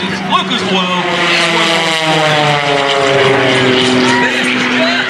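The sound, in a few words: aerobatic propeller airplane flying at an airshow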